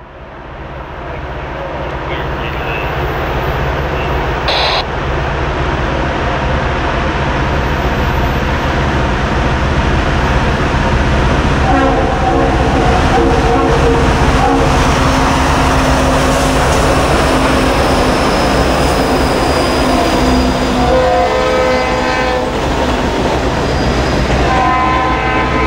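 Former Conrail SD80MAC leading a Norfolk Southern freight train on the Buchanan Branch, working loudly up a 1.89% eastbound grade with a steady engine roar, wheel clatter, and horn blasts sounding later on.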